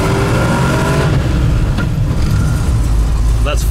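A V8 Land Rover Defender 127 ambulance, still on choke with a cold engine, drones loudly on a road test with a deep throaty engine note, and a voice is heard talking over it.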